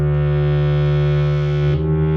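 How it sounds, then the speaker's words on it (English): A Sequential Prophet X synthesizer's oscillators modulate each other, one sine wave modulating another: a steady, buzzing tone with rich, gritty harmonics holds evenly, then shifts slightly in timbre near the end. "Here's the oscillators modulating each other, just not even using the samples."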